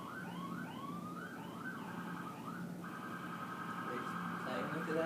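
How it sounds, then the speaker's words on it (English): Emergency vehicle sirens wailing outside a classroom, rising and falling tones with overlapping yelps and a steady tone later, muffled and distant but growing slightly louder, with a lecturer speaking over them. "It sounds like they're playing with the sirens out there"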